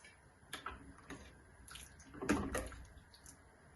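Grape juice coming to a boil in a pot bubbles and pops in scattered bursts, with one louder gurgle near the middle over a quiet simmer.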